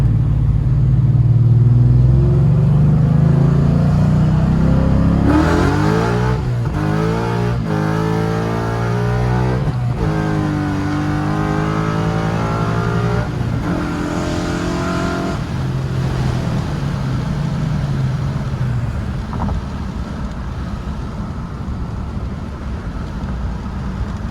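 A 1988 Ford Mustang Foxbody coupe with a Gen 1 Coyote V8 swap and T56 transmission revs hard to 8000 RPM, a loud close engine roar rising in pitch through repeated gear pulls, then settling to a steady drone.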